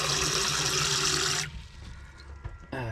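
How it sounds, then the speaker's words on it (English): Running water pours steadily into a mug inside a motorhome for over a second, then stops, followed by faint clinks and handling sounds. "Fill it up with water."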